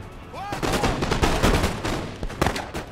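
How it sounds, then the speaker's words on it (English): Musket volleys from frontiersmen in the strategy game Empire Total War, a dense run of overlapping loud shots and crackling reports with battle noise throughout, peaking again near the end. "Let's keep my frontiersmen firing away."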